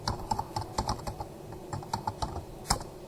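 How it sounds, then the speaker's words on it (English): Keys clack on a computer keyboard in a quick, uneven run of individual presses, close by and fairly quiet, with a short pause partway through. "So I'm going to type"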